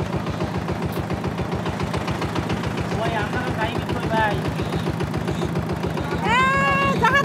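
A motorbike engine idles steadily and close by, a regular low putter running throughout, with voices talking over it outdoors in a guava orchard.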